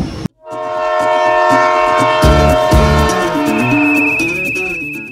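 A passenger train near Nagpur rumbles along and gathers speed, its clattering wheels loud and close, while a long, sustained horn blares over the top for most of the stretch.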